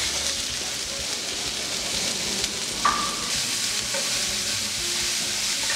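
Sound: onion frying in a pan

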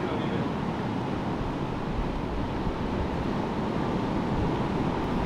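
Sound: ocean waves at a beach

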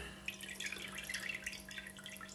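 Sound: rinsing meat under running water

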